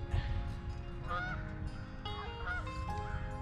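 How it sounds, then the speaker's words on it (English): Several geese honk repeatedly at close range as they come in to land on a lake, their calls overlapping in bursts against a low background rumble. "Oh, look at the geese. They're coming in to land on the..."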